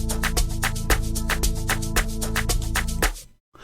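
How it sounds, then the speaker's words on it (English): Amapiano echo lead synth made in Caustic 3, bright plucked notes bouncing in a quick rhythm over a steady bass line, playing alone and stopping abruptly near the end. "Hot echo leads over there."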